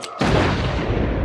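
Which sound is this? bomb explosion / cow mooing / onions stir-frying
bomb explosion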